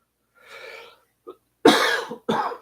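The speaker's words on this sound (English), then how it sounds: "so I apologize for the coughing" Coughing from a man recovering from viral pneumonia, a short muffled cough followed by two loud, harsh bursts close to the microphone, with no talking.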